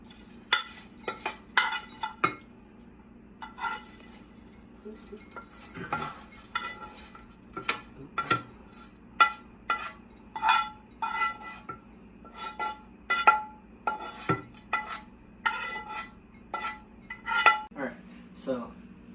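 Metal spoon scraping and clinking against a dish while spam is placed on top of rice, with a steady run of sharp clicks and taps close by and a low kitchen hum underneath.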